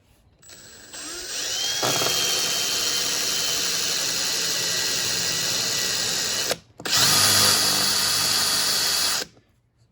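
A power drill drilling a hole through a car roof whines steadily at high pitch, running continuously for several seconds, briefly stopping, then revving again before cutting off. Close and loud.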